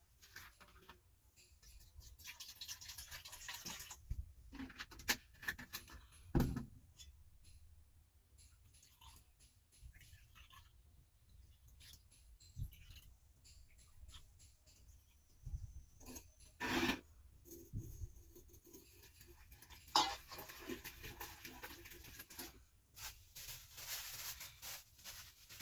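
Sandalwood being rubbed against a stone for a home shrine offering, with a soft, steady grinding rasp that recurs in strokes and a few sharper knocks, fairly faint and close, with no talking.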